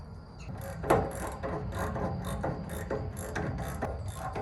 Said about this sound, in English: I gotta tighten those. Okay, I'm gonna get a 17 millimeter socket.